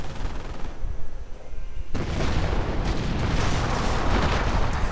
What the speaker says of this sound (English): And now we see all the rockets are flying